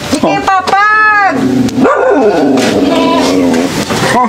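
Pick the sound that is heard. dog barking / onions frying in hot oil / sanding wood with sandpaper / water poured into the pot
dog barking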